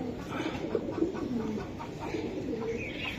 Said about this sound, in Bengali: হ্যাঁ একদম বাগা একটা কবুতর দেখেন।